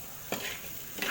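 Half-fried stingray being stirred into a tomato sothi gravy, with two quick spoon scrapes through the pot over a constant soft sizzle, close by and with no voices.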